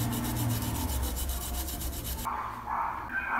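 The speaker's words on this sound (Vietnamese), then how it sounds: "Chúng ta đã có tỏi bào." Garlic cloves rubbed against a grater in a kitchen make a close, rhythmic scraping rasp in quick repeated strokes, which gives way near the end to a softer, brighter clatter.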